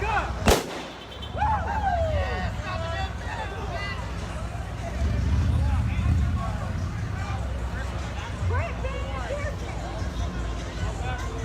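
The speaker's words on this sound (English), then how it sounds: "Firework, firework." Fireworks pop and boom in the distance at a street protest, over a constant din of crowd chatter and street traffic, with one sharp bang near the start.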